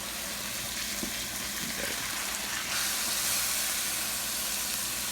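Steak Diane steak searing in a hot pan, a continuous close hissing sizzle that swells louder toward the end as the meat is lifted out, no talking.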